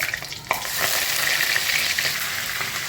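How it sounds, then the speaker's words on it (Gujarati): Mustard seeds, cumin, dried chillies and curry leaves crackle and sizzle in hot oil for a sambhar tempering, a close, continuous hiss with a small spattering burst near the start. "તેલ ગરમ થઈ ગયું છે. હવે એમાં નાખશું રાઈ. હવે નાખશું જીરું, સૂકા મરચાં, લીમડો,"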